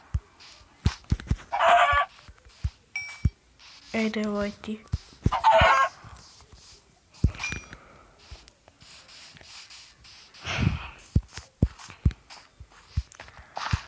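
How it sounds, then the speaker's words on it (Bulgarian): Chickens clucking in the Minecraft video game, a few short bursts of blocky game clucks spread across the stretch alongside clicks and footstep sounds, with a person talking briefly. "Още две кокошки, супер."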